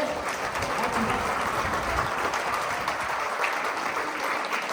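Clapping from a poetry recital audience fills the space in a continuous, fairly loud burst, brief and steady from start to finish, with no words spoken over it.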